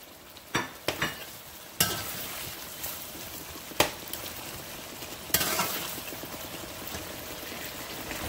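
Onions going into sauce in a pan for Haitian-style spaghetti, giving a steady low sizzle broken by several sharp clatters of stirring and scraping, close and moderately quiet, with no talking.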